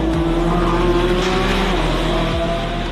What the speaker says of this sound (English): Also all the gear changes, amazing, with a double clutch transmission, 8-speed.